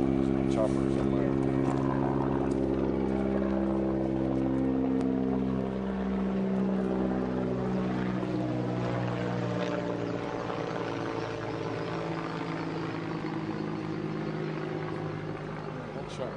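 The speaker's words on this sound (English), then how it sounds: "There's a chopper somewhere." A helicopter's steady droning rotor hum carries over a hospital compound on La Gonave, Haiti, a continuous low mechanical drone that stays fairly constant throughout, with light background activity.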